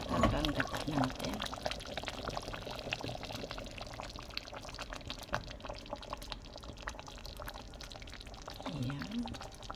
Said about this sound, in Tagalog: ilalagay na natin yung kakang gata natin.